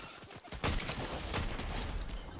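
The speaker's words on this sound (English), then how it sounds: "Oh, shit, is someone shooting? Behind us." Gunfire in the video game Fortnite, a burst of shots breaking out after a quiet start and continuing as a dense, loud volley.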